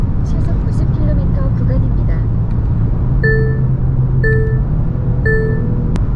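A Genesis G70 3.3 turbo facelift cruises at speed, heard from inside the cabin as a deep, steady road and engine rumble, with three evenly spaced electronic chimes sounding over it near the end.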